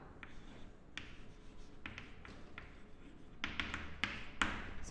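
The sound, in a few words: writing the program output on the board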